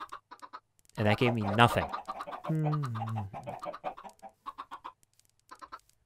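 Chickens in a modded Minecraft game give a couple of loud, close clucking calls between stretches of someone talking, with quiet game sounds ticking underneath.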